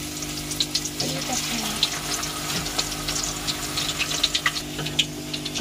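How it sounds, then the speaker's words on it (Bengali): Potatoes frying in a pan for potato fry, a steady crackling sizzle with scattered pops and spits, close and fairly loud with no talk, over a constant low hum. "লাল লাল করে ভাজা হবে।"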